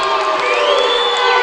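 A packed gym crowd at a boys high school basketball game roars and whoops after a clean block, a loud, dense wall of cheering with high shouts that holds steady for the whole stretch, with no voice standing out.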